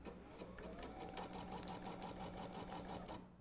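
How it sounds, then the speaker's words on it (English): An unthreaded sewing machine starts stitching, running with a steady, even mechanical whir and a rapid needle rhythm that stays close and constant throughout, with no voices. "it's actually going to go ahead and start stitching"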